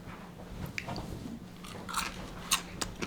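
Crispy fried mussels are bitten and chewed close to the mic, with a few sharp crunches standing out over a soft, steady background.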